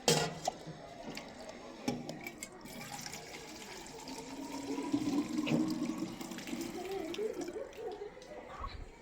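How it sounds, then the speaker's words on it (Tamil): Milk poured from a 500 ml packet into a measuring container in a shop, a steady liquid pour that swells and gurgles over several seconds, close and moderately loud. "இப்போ நான் அதை ஊற்ற போகிறேன்."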